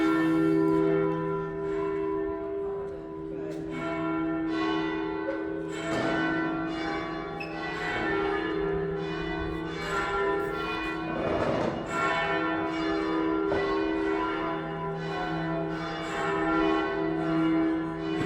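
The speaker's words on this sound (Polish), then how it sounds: "To jest najlepszy podkład muzyczny, słuchajcie. Dzwony." Large church bells at Santo Spirito peal continuously with rich, sustained ringing tones that overlap and swell, heard from a moderate distance.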